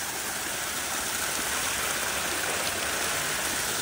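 A small waterfall pours beside a road at Jhalong in the Dooars, West Bengal, a dense, steady rushing hiss of falling water, close and constant without any voices.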